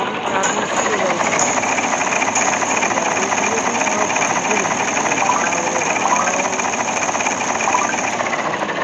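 A train runs in a mobile vehicle-driving game, giving a steady, loud, continuous rumble with faint clattering that carries unbroken for the whole stretch.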